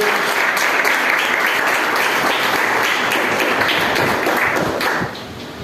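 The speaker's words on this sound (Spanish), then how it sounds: "Dale un fuerte aplauso a la presencia de Dios." Loud, dense applause from a large church congregation, steady and sustained for several seconds before dropping slightly in volume at the end.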